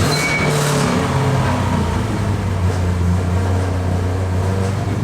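A Datsun 240Z engine rumbles and revs loudly up close, a continuous low throbbing drone with shifting pitch and no talk over it.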